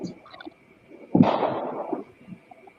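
New Year fireworks boom outdoors: one loud, deep blast with a rumbling tail that fades over about a second, amid faint background noise and no talking.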